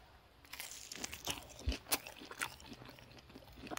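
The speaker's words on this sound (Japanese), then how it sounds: "じゃちくわ天の方もいただきますかね。" Close-up crunching and chewing of reheated chikuwa tempura, a fried fish-cake stick in batter, served alongside soba, with several distinct crisp bites and soft mastication in an otherwise quiet room and no talking.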